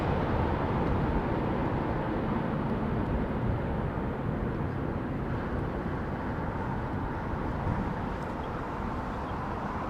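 Aircraft with GE90 engines at London Heathrow Airport, a loud, steady broadband jet roar that fills the whole stretch without letting up.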